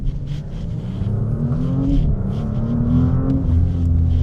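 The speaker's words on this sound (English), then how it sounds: "Let's find out how this car drives." An Audi RS5's engine hums and revs steadily from close by, the motor note rising and falling continuously as the car drives, with no talking.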